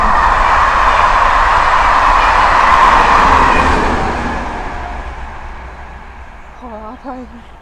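A train rolls past nearby with a loud, broad steady rumble that swells for several seconds and then fades as it moves away, outdoors among wild lettuce plants, with a brief voice near the end.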